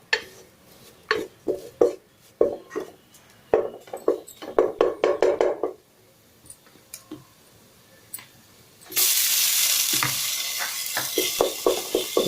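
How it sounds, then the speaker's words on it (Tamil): Maida flour is stirred in a pan for white sauce, giving a run of rhythmic close scraping taps, then a quiet stretch, and later a steady hiss under continued stirring strokes. "அதை நல்லா கிளறி விட்டுக்கலாம். மைதாவோட பச்சை வாசனை போகிற வரைக்கும் அடி பிடிக்காம கிளறிக்கலாம்."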